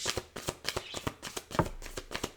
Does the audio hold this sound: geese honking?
no